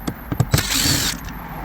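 A ratchet clicks a few times before a longer whirring turn as a screw is backed out during a 2007 Hyundai Azera interior repair, loud and close with no talk.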